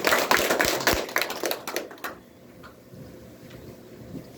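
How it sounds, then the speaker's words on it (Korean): An audience claps to welcome a lecturer at a seniors' academy talk, dense applause for about two seconds that then fades to scattered faint claps and room noise. "박수로 맞이해 주시기 바랍니다."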